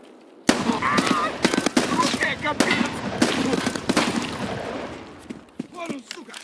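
Gunfire in Escape from Tarkov while fighting scavs: sharp single shots and short bursts ring out loud and close amid rattling gear and movement, with someone talking between shots.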